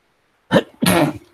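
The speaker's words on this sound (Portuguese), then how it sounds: "Espirrei, gente, desculpa" A person sneezes during a Portuguese grammar lesson: a short intake followed by a loud, explosive burst, close and alone, with no talking.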